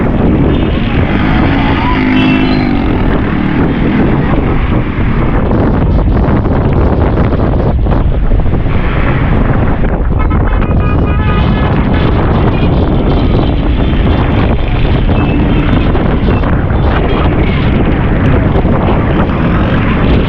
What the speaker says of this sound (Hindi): यहाँ तो बहुत तेज़ बारिश हो रही है, वो बहुत तेज़ हवा चल रही है यहाँ पे।